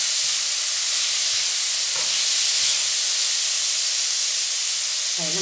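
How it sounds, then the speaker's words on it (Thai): Soft tofu hitting a hot pan in a home kitchen while stir-frying bean sprouts, giving a steady, loud hiss and sizzle that runs the whole time, with a few faint clinks near the end. "งั้นเราก็ใส่เต้าหู้ลงไปเลยค่ะ"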